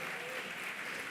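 An audience claps to welcome speakers to a panel table, a short burst of dense, even applause heard at moderate distance.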